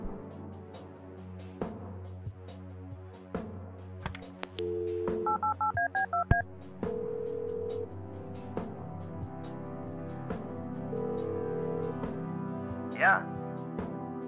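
Touch-tone telephone dialing in the Kathy Rain video game: a rapid run of DTMF keypad tones plays over quiet background music, and a voice speaks over parts of it.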